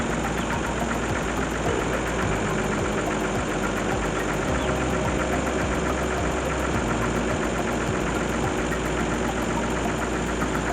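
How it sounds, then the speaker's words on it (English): An air compressor runs continuously to inflate a tire on an overland dual air hose inflation setup, producing a loud, rapid, steady mechanical chugging drone with no pauses or voices. "And I got the compressor sitting over here."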